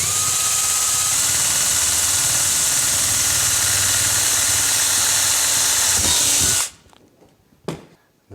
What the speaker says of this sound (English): Drill the outside hole.